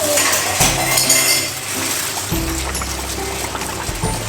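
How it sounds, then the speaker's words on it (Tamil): Thattai dough pieces sizzle in hot oil for a festival snack, a steady crackling hiss with occasional clinks of a metal utensil against the pan. "கொஞ்சம் கொஞ்சமாக போட்டு பொரிச்சு எடுத்துக்கோங்க"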